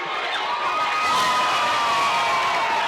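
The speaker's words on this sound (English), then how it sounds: "Malvern crowd into it now as well" A crowd cheering at a Malvern high school football game against Lakeside, a loud sustained roar with whoops and shouts that swells slightly midway and carries on without a break.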